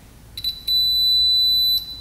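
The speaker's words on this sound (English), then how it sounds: "use a continuity tester, and if you hear a beep on the plate" Two quick faint clicks, then a continuity tester gives a steady high electronic beep for about a second before cutting off, alone over a quiet background, while testing dirt bike wiring.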